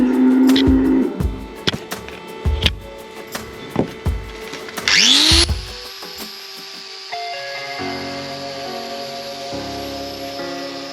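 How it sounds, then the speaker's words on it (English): Power grinder trimming loose detached horn from a big lame bull's hoof, a rising whine and gritty rasp near the middle after a run of sharp knife scrapes and knocks, then a steady hum. "It's a matter of trimming this down with the knife and the grinder"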